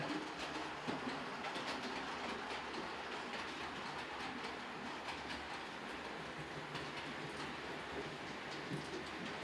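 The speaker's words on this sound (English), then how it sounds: "train running around nicely with those teak coaches behind it now" A model railway train pulling teak coaches runs steadily around the layout, giving a soft, continuous rolling rumble with faint clicks that stays quiet and even throughout.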